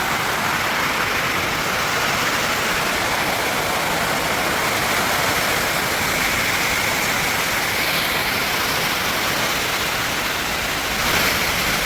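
Heavy rain pours down outdoors at a bullock cart race ground, making a dense, unbroken roar of close, loud noise that stays level throughout with no pauses.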